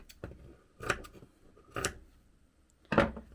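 Fabric for a scrap quilted journal cover is cut to length with scissors, giving three or four crisp snips spaced about a second apart, close and fairly quiet with nothing else around them.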